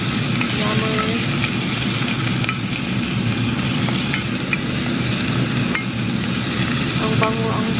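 Chicken liver with onion and garlic stirred in a sizzling pan, a steady close frying hiss with scraping stir strokes running throughout, no talking.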